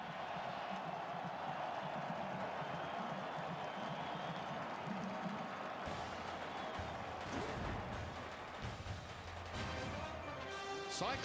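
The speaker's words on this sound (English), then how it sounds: "Listen to this crowd." A stadium crowd at a college homecoming football game between Iowa State and Texas roars loudly and continuously, swelling into brighter cheering and clapping bursts midway through, with no one speaking over it.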